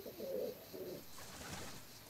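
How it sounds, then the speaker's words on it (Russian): Pigeons coo softly inside a well, with low, throaty rolling calls repeating at a distance and echoing faintly against quiet ambient hiss. "стены колодцев часто бывают схожи с небольшими городками, населенными стайными птицами, например, голубями, попугаями или скворцами"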